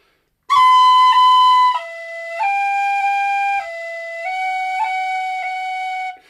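Tin whistle played slowly to demonstrate cut and tap ornaments, clear, close notes stepping between pitches with small quick flicks at the note changes, solo with no talking.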